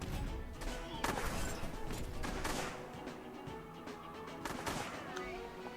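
Riflemen shoot in the mobile game Age of War 2 amid constant battle noise, with repeated gunshot cracks under a dense, busy mix.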